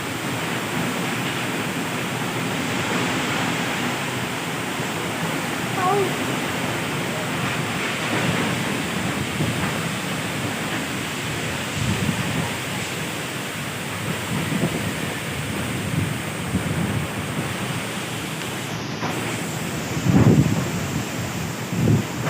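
Heavy rain and wind from Typhoon Rolly lash a coconut-palm area in a steady, loud roar of downpour that runs throughout, with occasional gusty swells and no speech.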